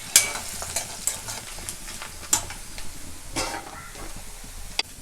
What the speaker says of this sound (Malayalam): അതിലേക്ക് സവാള, ഒരു പിടി ബോൾ മല്ലി, മുളക് ചേർത്തിട്ട് വറുത്തെടുക്കാം